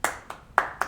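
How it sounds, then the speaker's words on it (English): Four separate, sharp hand claps, close and fairly loud, with short gaps between them, greeting a guest on a cooking show about Jamaican beef patties. "Let's give her a round of applause."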